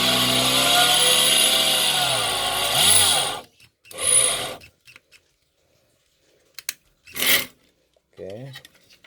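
A homemade cordless drill with a 775 motor drills into 2 mm aluminium: a loud, high-pitched whining grind for about three seconds as the speed sweeps up and down, then short spins and stops in near silence.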